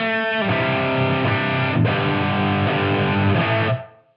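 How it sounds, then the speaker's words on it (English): A distorted electric guitar chord through an Empress Para EQ Deluxe pedal with boost rings out bright and buzzy with added sizzle, restruck once midway, then cuts off cleanly. "if you want to introduce a little bit more sizzle, you can use the boost"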